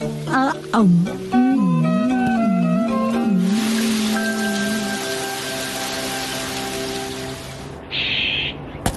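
Cartoon rain in a Hindi-dubbed Shinchan episode: a steady hiss of falling rain rises after a few seconds of tonal music and carries on evenly to the end.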